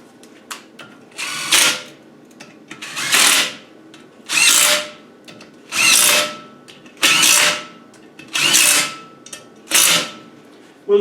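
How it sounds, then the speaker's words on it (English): A power tool gun spins down the bolts on an R380 gearbox casing in seven short, loud whirring bursts, evenly spaced with brief quiet gaps between them. "I'm just going to give them a quick whiz down with the gun"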